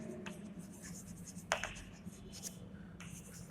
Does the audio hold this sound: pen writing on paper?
yes